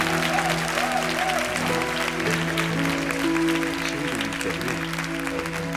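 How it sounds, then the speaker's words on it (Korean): Congregation at a Korean youth worship service clapping in praise, steady applause mixed with sustained music tones and organ-like chords running underneath throughout. "우리 하나님께 다시 한번 큰 영광의 박수를 드렸으면 좋겠습니다."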